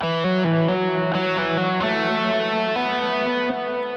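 An electric guitar through distortion and effects plays a sustained flat-seventh note over a chord, ringing out steadily with a few picked changes at a clear, close volume.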